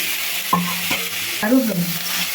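Tomatoes, onions and curry leaves fry in a pan for a mutton curry. A close, bright sizzle carries throughout, punctuated by a few distinct scraping stir strokes across the pan.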